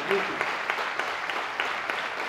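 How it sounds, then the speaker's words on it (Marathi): An audience in an interview hall claps for a group of Umling La trekkers, a steady, moderately loud applause with crisp, regular hand claps throughout. "त्यांना टाळ्या वाजवा"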